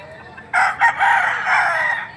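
Chickens at a livestock market in Padre Garcia, Batangas, among them yellow-leg and green-leg fowl: a rooster crows loudly and close by in a single sustained call lasting under two seconds, with clucking mixed in.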